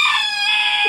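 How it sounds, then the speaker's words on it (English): A small backyard rooster crows once, loud and close, a bright sustained call cut short within a second. "Philippe is really crowing a lot today, so I hope you can hear me"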